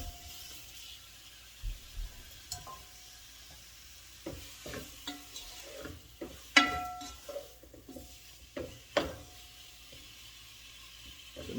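Seasoned beef and onions sizzling in a pot, a quiet steady frying hiss broken by scattered scrapes and knocks of stirring, close and fairly soft, with no talking.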